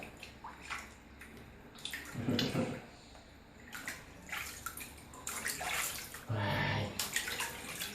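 Water splashes and pours in uneven bursts while a baby is bathed, with sloshing and trickling that swell and fade close by, quiet between the louder splashes.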